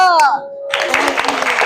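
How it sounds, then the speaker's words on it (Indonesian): A group of schoolchildren in a classroom clap their hands together after a brief spoken cue, a quick run of near, uneven claps lasting about a second. "Yuk kasih tepuk."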